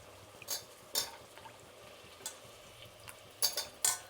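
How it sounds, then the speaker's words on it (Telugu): Eggplant pieces tumble into a hot pan of fried ginger-garlic paste and get stirred, giving a few scattered clattering scrapes of spoon against metal over a faint, steady sizzle, with no one speaking. "ఇప్పుడు వంకాయలు వేసుకుందాం."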